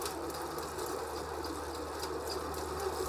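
A bicycle-powered grain mill grinds grain with a steady mechanical whirring and rapid rhythmic clatter, continuous and moderately quiet, with no talking.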